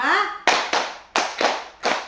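A group of adults in a training session claps together in a short rhythmic pattern, sharp close bursts grouped two, two, then one, following a brief spoken cue.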